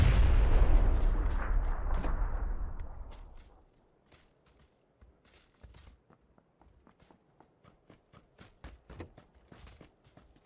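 A bomb blast in a Predator tournament video game: a loud, long booming explosion that rumbles and decays over about four seconds, followed by quiet scattered clicks and light footstep-like taps.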